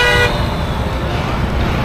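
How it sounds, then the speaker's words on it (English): Car horn honking in street traffic in Da Nang, one short loud toot at the start cutting off quickly, followed by a steady rumble of passing road traffic. "How it was just speeding, honking the horn like, I'm not stopping, you need to stop."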